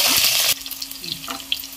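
Garlic cloves drop into hot oil with fenugreek seeds, a loud burst of sizzling for half a second that then settles into quieter, scattered crackles.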